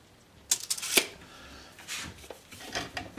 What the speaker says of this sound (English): I can actually hand spin that round now to get the right size